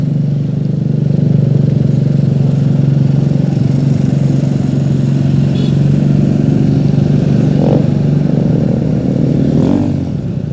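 A motorcycle runs in street traffic on a road in Tasikmalaya, its engine drone loud and close and holding steady for several seconds amid the rumble of other passing vehicles.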